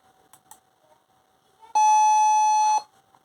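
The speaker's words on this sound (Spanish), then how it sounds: "Y como señal de arranque tenemos a la bocina que ya emitió un sonido." A single loud electronic buzzer beep lasting about a second, a start signal in a circuit simulation, steady and piercing, after a few faint clicks in a quiet background.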